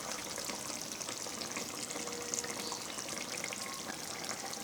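Stingray fish curry simmering and being stirred after garam masala paste is added, a steady close sizzle and frying hiss running throughout with faint scraping, no voices.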